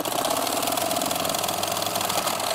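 A sewing machine runs fast and steady while stitching a goose down pillow, a dense, continuous mechanical whir with no pauses or voices.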